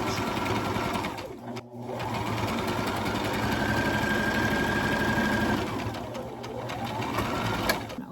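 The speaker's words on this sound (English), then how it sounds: "I'm going to back stitch at the beginning and at the end." A sewing machine back stitches the seams of a quilt block, running in a close, steady rapid whirring rhythm with short pauses and restarts at the beginning and end of the seam.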